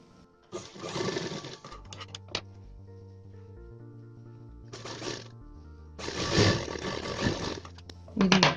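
Electric sewing machine stitching saree blouse pieces together in bursts of loud, rapid whirring, separated by quieter pauses with faint handling of cloth; no talking.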